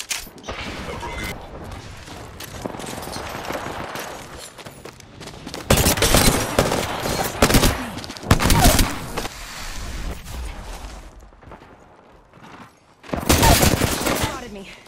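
Bursts of rapid gunfire in the video game Apex Legends, with loud clustered volleys separated by quieter stretches, mechanical clicks and a voice talking in between.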